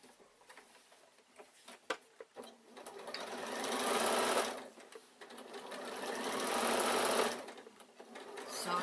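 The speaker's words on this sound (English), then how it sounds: "then you're going to sew to the top" A sewing machine runs in two sustained bursts while stitching a quilted evening bag, its fast whirring stitch rising and falling close by, with a few soft handling clicks before the first run.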